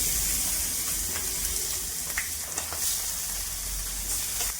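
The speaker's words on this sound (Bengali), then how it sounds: "তেল গরম হয়ে গেছে।" Tengra fish frying in hot mustard oil give a steady, close sizzle with a bright hiss that holds throughout, broken by a few light crackles and pops.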